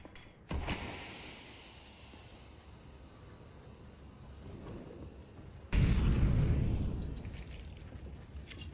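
Two grenade blasts from a Counter-Strike-style tactical shooter boom through a match. A sharp nearer crack comes first, then a heavier, louder burst several seconds later, each leaving a rumbling tail. No one talks.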